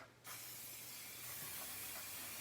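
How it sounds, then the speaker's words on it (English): Pan spray hisses in a steady burst onto a very hot saute pan, a continuous close spray lasting a couple of seconds after a brief quiet start. "Take a little bit of basically pan spray."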